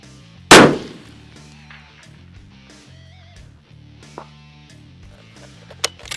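A single loud rifle shot cracks close by on a long-range shooting session in Hawaii, dropping quickly to a quiet outdoor background with a couple of faint knocks afterward.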